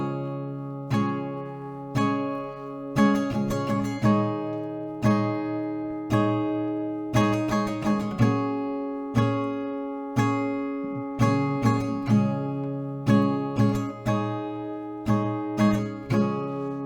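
Acoustic guitar strums the verse of a song at normal pace, with steady down-up chord strokes in a regular rhythm, close, clear and unaccompanied by voice.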